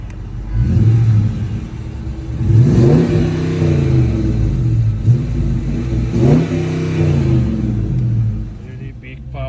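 A 2020 Dodge Challenger R/T with a 5.7-liter V8 and dual exhaust revs up close, with several rising throttle blips swelling over a deep, steady idle rumble.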